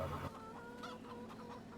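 Chickens clucking in a video game, a few short low clucks close by over a faint steady background hum, very brief and quiet.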